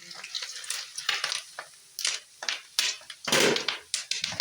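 Mango popcorn being stirred in a pan, with irregular close scrapes, rattles and clinks of kernels and utensil against metal, quiet between bursts and no talking.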